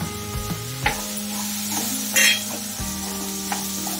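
Green chillies sizzle in hot oil for sabudana khichdi, a steady fry hiss with stirring clatter and a few utensil knocks, close and moderately loud with no talking.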